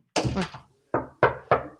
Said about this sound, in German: erst klopfen